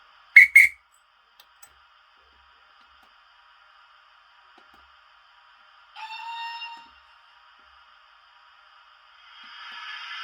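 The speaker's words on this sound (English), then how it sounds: "the guard blows his whistle" A sharp, shrill guard's whistle blast from a Hornby model railway rings out, followed by quiet, a short mechanical whistle tone, and a rising hiss near the end.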